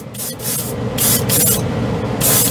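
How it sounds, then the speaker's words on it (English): A Grex airbrush sprays Mr. Hobby Aqueous paint in short hissing bursts, about four or five, separated by brief pauses, close and fairly loud over a low background hum. "I'll stick with this Grex airbrush to the bitter end."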